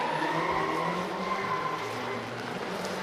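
A drift car slides around the Baypark Stadium track during a D1NZ Pro-Sport event, its engine droning loudly with sustained tyre squeal throughout, the noise easing slightly toward the end.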